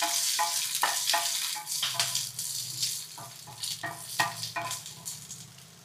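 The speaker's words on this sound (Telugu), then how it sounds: "ఇప్పుడు వీటిని వేయించుకుందాం." Four chopped green chillies frying in a pan for mint coconut chutney: a soft, steady sizzle with intermittent clicks and scrapes of stirring, fairly quiet and close.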